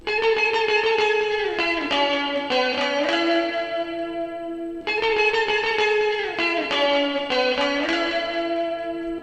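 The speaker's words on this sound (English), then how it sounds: "layering octaves is actually really pretty" Two guitar lines an octave apart play the same slow, sliding melody together, spread wide to either side and drenched in reverb, chorus and light distortion, forming a dense, shimmering ambient texture that repeats twice with no voices.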